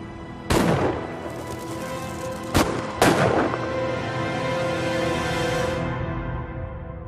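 Gunshots ring out in a staged mob hit ambush by a lone gunman: one loud blast, then two more close together a few seconds later, each leaving a long echoing tail over a steady background.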